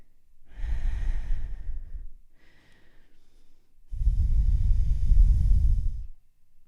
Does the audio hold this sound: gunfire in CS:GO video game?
no